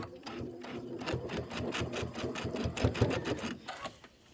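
Sewing machine stitching in the ditch along a seam of a quilted pillow, a rapid even run of needle strokes, close and fairly quiet, tapering off at the end.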